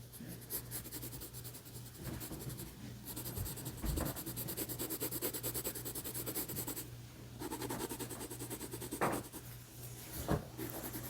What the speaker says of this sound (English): I'm going to turn my pencil and just go over that a second time